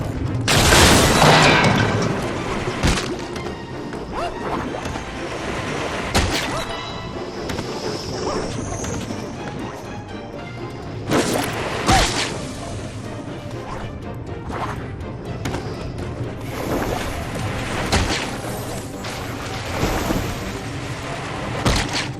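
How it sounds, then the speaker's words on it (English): An explosion in the video game Epic Mickey 2: The Power of Two, which shuts off a thinner curtain, sounds as a loud crashing boom at the start, followed by continuous rumbling game noise with further bangs and impacts throughout. "The explosion shut off the thinner curtain."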